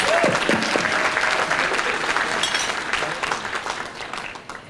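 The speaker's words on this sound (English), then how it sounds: "Let's give them a big round of applause." Audience at an annual gala applauds dancers after a performance, dense clapping that is loud at first and gradually thins out, with a brief cheer or voice near the start.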